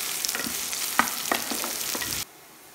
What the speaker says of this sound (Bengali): পেঁয়াজও তেলের মধ্যে কিছুক্ষণ ভেজে নিব।